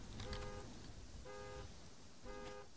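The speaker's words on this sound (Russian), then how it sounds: "у нас забибикала машина" Car horn honking in the psychological horror game Rose and Cross, three separate honks repeating at a steady interval over a dull ambient background.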